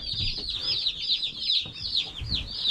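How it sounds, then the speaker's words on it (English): Baby chicks peep in a quick, steady run of high chirps on a Maine homestead, close and fairly soft, with a few low bumps beneath. "Look at all the chickies."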